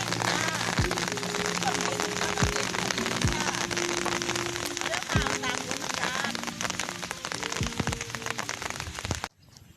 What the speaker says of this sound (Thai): ฝนตกเดียว